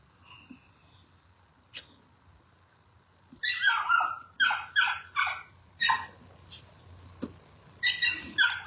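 A dog barks in a quick series of sharp, loud barks nearby, preceded by a few faint yips and clicks in an otherwise quiet room.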